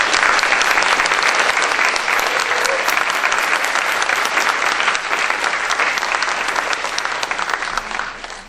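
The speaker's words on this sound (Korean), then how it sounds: "기호 1번 새누리당 소속 정몽준 후보자님께 다시 한번 큰 환영의 박수를 보내드립니다." Sustained applause from a large audience at a Korean election candidate debate, steady and loud throughout, thinning slightly near the end.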